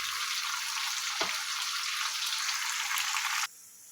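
Chopped tomatoes frying in ghee, a bright steady sizzle with a brief stir clatter partway through, then the sizzle drops off sharply near the end as the heat fades or the pan is moved.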